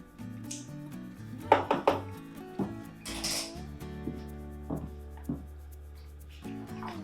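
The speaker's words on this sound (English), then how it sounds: "So I'm just going to take scissors, my kitchen scissors, and just chop some cilantro onto the top." Kitchen scissors snip fresh cilantro over a bowl of white chicken chili, a quick cluster of crisp cuts followed by a few scattered snips amid faint kitchen background tones.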